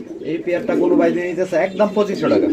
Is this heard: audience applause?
no